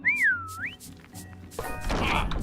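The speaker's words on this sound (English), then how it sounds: "Give Max a whistle." In the Grinch video game, a loud swooping whistle to call Max the dog glides up, down and back up, followed about a second later by a heavy crash and clatter.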